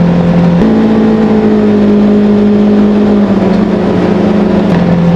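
A Polaris Ranger Northstar engine running steadily with a new clutch kit, a loud, close, continuous drone and whir whose pitch shifts slightly as the revs change, with no talking.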